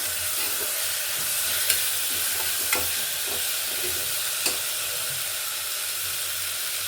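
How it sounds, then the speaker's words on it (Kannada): Cut potatoes and carrots frying in a pan for vegetable pulao, giving a steady close sizzle with a few sharp clinks of stirring over the top. "ಆಲೂಗಡ್ಡೆ ಒಂದು ಸ್ವಲ್ಪ ಕಟ್ ಮಾಡಿ ಇಟ್ಕೊಂಡಿದ್ದೆ ಚೆನ್ನಾಗಿ ಫ್ರೈ ಆಗ್ತಾ ಇದೆಯಲ್ವಾ"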